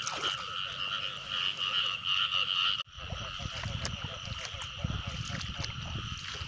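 Frogs croak in a dense, continuous chorus in a flooded rice field during the water-release season, loud and close, with a brief dip midway, while people talk over it.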